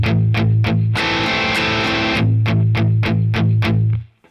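Electric guitar riff: a quick run of muted strums, then a burst of bright, open distorted strumming, then steady palm-muted chugging. Close, loud and alone.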